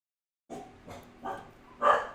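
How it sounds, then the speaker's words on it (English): Dogs kept while dog sitting bark indoors, four separate barks spaced about half a second apart, close and fairly loud, with the last bark the sharpest, and no talking. "I apologise for the barking dogs."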